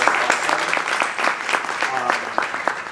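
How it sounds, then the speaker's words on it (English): Audience applause honouring a speaker at an environmental justice event, a moderate crowd clapping steadily with distinct individual claps, while someone talks over it. "I want to just give another round of applause to Antonio"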